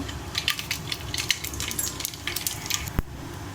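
Mustard seeds and cumin in heated oil for tomato bath, giving a constant crackling sizzle with rapid pops close up and one sharp knock near the end, with no voices.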